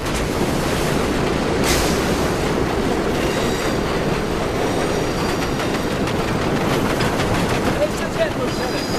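A train rolls along rails in the Medal of Honor: Above and Beyond war game, a steady loud rumble with faint clatter running throughout, heard alone without talk.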